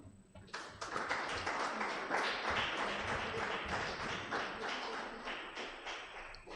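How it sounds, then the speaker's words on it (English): Applause breaks out as a doctor is received by a fellow doctor at a public engagement event: a dense, steady crowd clapping that starts abruptly and holds at a strong, even level throughout. "A round of applause as the doctor is received by her fellow doctor."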